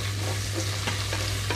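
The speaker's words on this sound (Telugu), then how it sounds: "నేను ఇప్పుడు ఇందులోకి వెజిటబుల్స్ కూడా వేసేస్తున్నాను. Carrot, beans," Carrots, beans and potato go into a pan of frying onions for vegetable pulao and get stirred, a steady close sizzle with soft scraping stir strokes and no voices.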